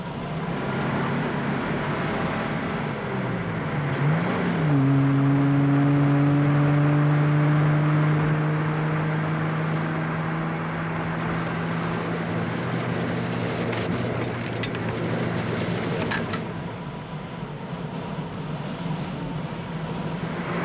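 A car driving fast in a radio drama, engine droning steadily, then a rising, whining note as it accelerates to overtake and cut in, holding strong before easing off near the end.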